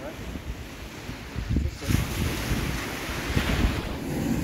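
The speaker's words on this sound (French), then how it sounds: "Vous êtes allé voir les vagues?" Ocean waves wash onto a beach in Portugal, a steady broadband roar that swells around the middle, heard close and fairly loud with wind buffeting the microphone.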